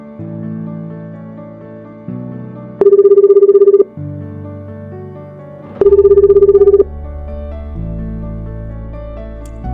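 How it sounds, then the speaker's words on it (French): A telephone bell rings in two loud bursts about a second long each, alternating with steady synthetic musical tones in an animated scene. "Rita, lâche ce téléphone"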